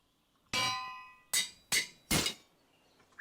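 A metal anvil in a block-building video game rings out with four sharp clangs, one long resonant strike followed by three quicker bright hits, close and alone.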